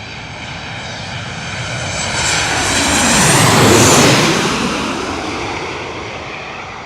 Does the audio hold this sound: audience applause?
no